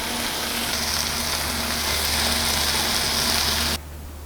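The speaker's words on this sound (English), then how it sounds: "Now let's cook our bacon." Bacon strips frying in a pan, a steady loud crackling sizzle with a faint hum underneath, running continuously before cutting off abruptly near the end.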